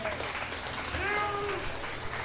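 An audience claps for a performer at a comedy routine competition in Ciudad Juárez, a fairly quiet, even spread of applause with a faint whistle-like tone drifting through it.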